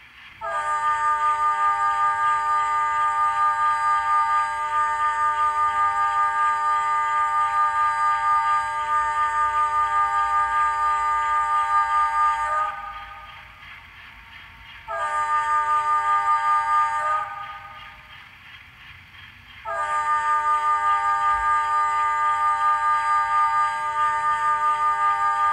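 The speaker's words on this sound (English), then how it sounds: "Now let's listen to how the horn sounds in an actual locomotive model." A custom horn sounding from an ESU LokSound decoder in a model locomotive, loud and close: a long chime blast, a short one, then another long blast, with a faint mechanical hum between them and nobody speaking.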